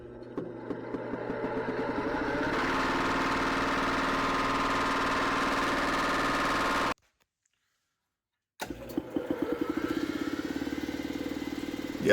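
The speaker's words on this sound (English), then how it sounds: "That's cold, loaded, and it still starts up way faster." An electric motor on a shop weld positioner, cold and loaded, starts up and runs with a steady mechanical hum and clatter, cuts out abruptly, then restarts after a short pause.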